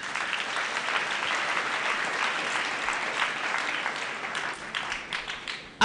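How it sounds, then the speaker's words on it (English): A congregation at a school thanksgiving mass claps for the candidates, a dense, sustained round of applause that fades toward the end before a sudden cutoff. "Let's clap for our candidates."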